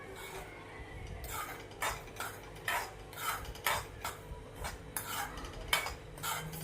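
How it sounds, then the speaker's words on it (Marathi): A spoon scrapes a pan in a quick, regular rhythm, stirring sugar into roasted semolina for a mango sheera. The strokes are close and dry, with no one speaking. "ती सगळं आपण मिक्स करून घेऊया साखर आणि रवा"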